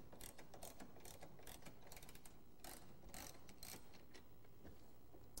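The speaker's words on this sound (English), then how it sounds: "Next, unbolt the seat belt retainer." Bolts on the seat belt retainer of a 1992 Mercedes 300CE (W124) Cabriolet are loosened with a ratchet, a rapid run of clicking pawl strokes in bursts over a hum, quiet and close.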